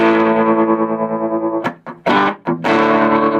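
Distorted electric guitar chord from the bridge pickup through a 1960s Beltone AP-14 amplifier ringing out loud, then a few choppy strummed hits and another sustained chord, crunchy amplified tone.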